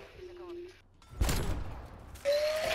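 Dual-wielded Magnum pistols firing in Black Ops Cold War: a sharp crack around the middle, then a further burst, with a voice and game noise around the shots.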